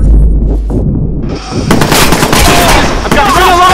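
Heavy gunfire in the Watch Dogs video game during a jail break: loud, rapid bursts of shots and impacts fill the scene, with shouting voices mixed in.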